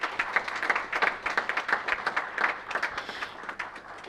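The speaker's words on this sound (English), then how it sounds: "I would request you once again to fold your hands and give a big clap to him." An audience at an international seminar on social sector development claps steadily in dense, continuous applause that holds for several seconds with no talking over it.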